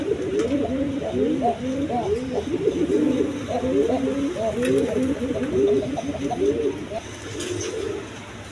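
Pigeons coo continuously in low, throaty, repeated phrases, close and fairly loud, over faint background noise.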